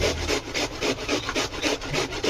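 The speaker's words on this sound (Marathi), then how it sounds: "त्यानंतर मी याला छान किसून घेणार आहे" Cabbage for gobi manchurian is rubbed against a grater in fast, even rhythmic strokes, each a close, crisp rasping scrape, with no one speaking.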